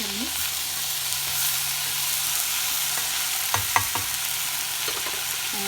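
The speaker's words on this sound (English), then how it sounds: "Let's give it a mix." Vegetable white curry with lemon or lime juice is stirred in a pan, a steady soft sizzle with a few clearer scrapes of the spoon near the end.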